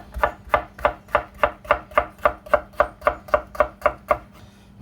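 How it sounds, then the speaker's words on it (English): A knife chopping jalapeno peppers on a cutting board for mac and cheese, giving a steady run of about fifteen close, crisp, evenly spaced chops with no talking. "Okay, jalapenos are cut up."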